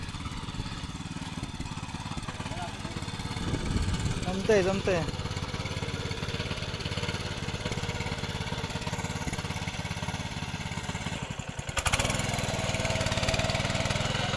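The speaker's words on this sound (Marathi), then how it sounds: "कसा हँड ट्रॅक्टरने इकडे मळी नांगरली जाते" A small hand tractor engine chugs steadily nearby, ploughing a village field in Konkan, India, with a brief spoken word over the drone.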